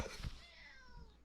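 A one-year-old kitten gives a single faint meow that slides downward, heard close up in a quiet indoor room.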